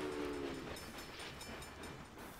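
An express train rolls along steadily in the Railway Empire game, a faint, continuous rumbling rail noise with a brief horn-like tone at the start, no voices.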